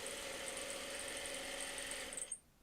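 A sewing machine stitches strips of fabric at an even, rapid pace, its mechanical whir and ticking steady and close before it winds down and stops near the end.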